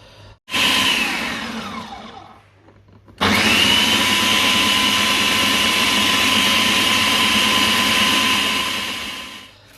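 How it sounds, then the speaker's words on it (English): A food processor grinds peanuts into peanut butter with a loud, steady motor whine, starting with a short run, pausing, then restarting for a long continuous stretch before spinning down. "I've turned the peanuts to the food processor."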